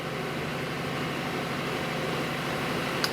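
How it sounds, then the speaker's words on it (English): Boat engine running at almost 2000 RPM aboard a cruiser on the Norfolk Broads, a faint steady low hum and drone with no talk. "Just be curious how it's picking up the engine noise. We're doing almost 2000 RPM,"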